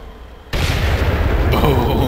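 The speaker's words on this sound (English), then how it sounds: "That was a pretty satisfying explosion." A loud, close explosion in the military shooter ARMA 3 erupts with a sudden broadband blast at about half a second, then a sustained rumbling roar and crackle through the rest of the clip.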